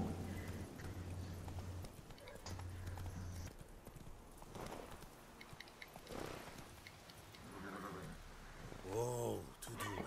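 Horse hooves clip-clopping in The Witcher 3, steady close hoofbeats that come and go, with a brief whinny near the end.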